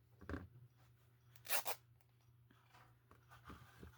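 Scissors snip through fabric as a page tab is cut apart, a quiet first snip followed by a louder double crunch, then faint rustling.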